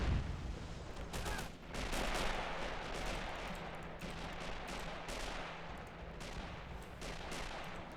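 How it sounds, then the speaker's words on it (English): Gunfire crackles through a large Men of War video game battle, with steady overlapping shots and booms forming a continuous dense din at a moderate distance, no talking. "they're gonna start opening fire at our poor men"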